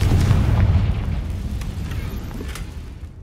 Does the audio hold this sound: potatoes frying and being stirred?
no